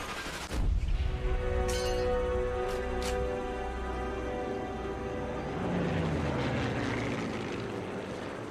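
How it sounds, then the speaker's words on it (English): A propeller plane drones through the Sniper Elite 3 game world, its steady engine tone loud and sustained for several seconds, with a sharp shot-like crack near the start and busy game noise beneath. "Apparently we're just not in the right spot anymore for the plane."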